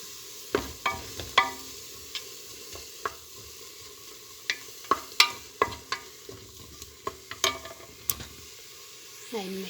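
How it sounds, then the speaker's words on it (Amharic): Chopped onions fry in oil in a pan while a spoon scrapes and stirs in sharp, irregular strokes over a quiet, steady sizzle, close and fairly soft. "አሁን ሽንኩርቴን እያበሰልኩ ነው።"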